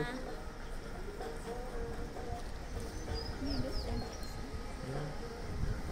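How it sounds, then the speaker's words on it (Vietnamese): Soft dove-like cooing rises now and then amid a busy outdoor murmur of voices and movement in Montreal, fairly distant and low. "Nghe mấy con chim nữa."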